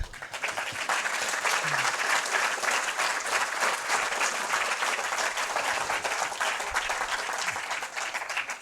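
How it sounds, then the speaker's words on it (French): A large audience at a mayor's New Year address gives dense, sustained applause that stays loud and even for more than eight seconds. "Et je pense que ça peut s'applaudir"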